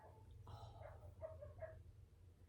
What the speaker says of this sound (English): It's actually my daughter's toy dog that makes noises